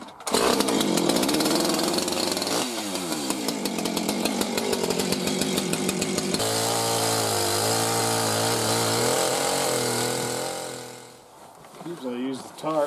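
A chainsaw running a freshly swapped chain revs and cuts through wood up close, its loud engine whine rising and falling while someone talks over it.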